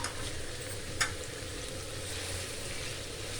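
Chicken karahi frying in a pan with garlic-ginger paste and tomato, a steady, even sizzle with a single sharp tick partway through, no talking.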